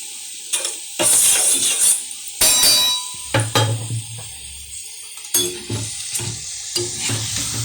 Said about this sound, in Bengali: বড়াটা আমার একদিক হয়ে গেছে, আর একদিক ভাজবো।